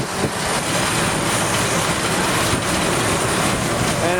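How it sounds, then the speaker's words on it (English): Steady broadband engine roar fills the inside of a Russian Ilyushin airplane cabin on an Antarctic glacier, a constant dense drone with no breaks and no talk. "This is the inside of the Russian Lushan airplane."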